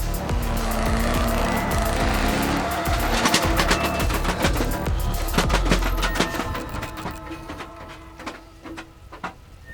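A modified Hummer H1 is driven hard with tires spinning, giving a loud engine roar layered with rapid rattling and crackling bursts that fade toward the end.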